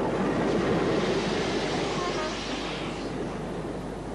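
A special members' train on the Talyllyn Railway in 1962 rolls into its destination. Its low, rumbling rail noise is fairly close and strongest at first, then gradually settles and fades.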